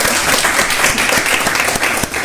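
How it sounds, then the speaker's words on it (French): Studio audience applause on a live French midday show, a dense, steady wash of clapping that fills the whole stretch at a loud, even level with no voices over it. "Merci de vous applaudir aussi."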